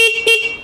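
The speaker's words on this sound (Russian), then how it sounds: "То есть это звуковой сигнал, клаксон," Two short, loud horn beeps in quick succession, a bright buzzy honk close by from an Izhtekhmash Scout-9 all-wheel-drive motorcycle.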